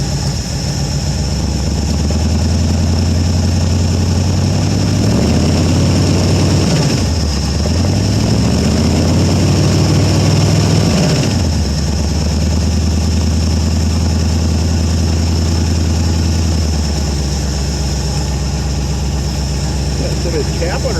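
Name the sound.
1973 Ford Gran Torino 351 Cleveland engine running after revival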